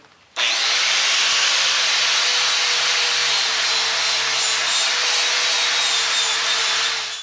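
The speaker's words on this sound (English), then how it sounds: "I'm going to use this coarse Scotch-Brite disc on my grinder" An angle grinder fitted with a coarse Scotch-Brite disc works over the face and horn of a VEVOR 66 pound anvil, a loud, steady abrasive whir with a high whine that holds unbroken for about seven seconds.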